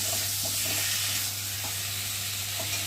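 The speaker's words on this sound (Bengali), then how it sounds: "দিয়ে মশলাটা ভালো করে কষিয়ে নেব আলুর সাথে" Spice paste of ginger paste, tomato and potatoes fries in a pan for a rohu fish curry, giving a steady, close, even sizzle with no talking.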